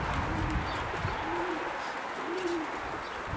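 Several racing pigeons landing after a winter race flight coo in low, repeated phrases against a busy, muffled background, with some faint shuffling but no clear speech.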